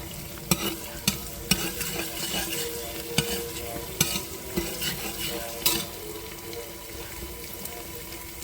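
Rice roasts in a pan toward golden, a steady sizzle punctuated by repeated sharp clinks and scrapes of a spoon stirring against the metal.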